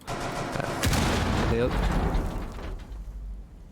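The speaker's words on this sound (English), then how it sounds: "Looks like he threw a nade and hurt himself a little bit with that one." A grenade detonates in a competitive first-person shooter esports match, a sharp booming blast with rumbling tail amid dense game audio and an excited commentator talking over it.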